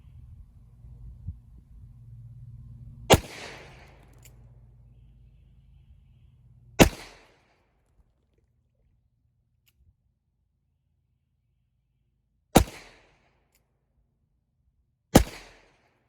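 An Uberti Cimarron 1851 Colt Conversion revolver fires four sharp, loud gunshots spaced several seconds apart, each with a short crack and brief decay, outdoors at about 10 yards.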